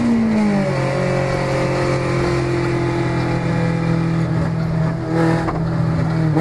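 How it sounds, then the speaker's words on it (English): Revving engine of a 1999 Honda Civic with an open header, a loud, steady raspy roar that rises in pitch and holds close by throughout, with no talking. "oh, listen to that car roar"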